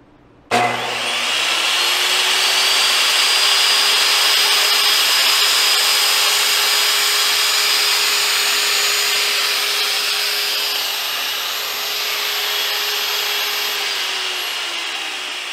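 Saw cutting thin plywood against the fence for a Minimax 1100R aircraft build, a steady loud whine starting abruptly and running continuously for about fifteen seconds with a constant motor tone, close and alone.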